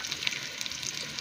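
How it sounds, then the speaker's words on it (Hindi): Onion, tomato and chilli frying in hot ghee, a steady soft sizzle with faint crackles, fairly quiet and close, no voices. "घी हो चुके गर्म, मिक्स कर देंगे प्याज टमाटर मिर्चा"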